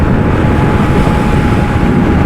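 Limited Edition Indian FTR 1200 R Carbon motorcycle being ridden, its engine roar heavily mixed with loud, steady wind rush across the microphone throughout, no talking.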